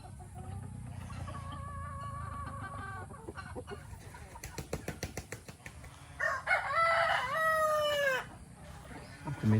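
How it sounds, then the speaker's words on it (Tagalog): A rooster in a backyard flock clucks quietly, then crows once loudly and close near the end, with a few scattered sharp knocks in between. "Tumitilaok na."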